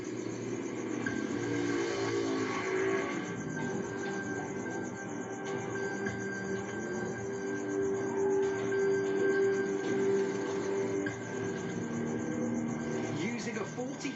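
A KTM RC8C sport motorcycle runs cone exercises, its engine revving up and easing off in repeated swells at moderate distance, with faint talk in the background.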